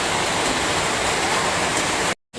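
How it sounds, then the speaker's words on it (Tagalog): Sudden heavy rain pouring down outdoors, a dense, loud, steady hiss of falling water that stops for a brief moment near the end and then resumes. "Biglang umulan mga kaibig."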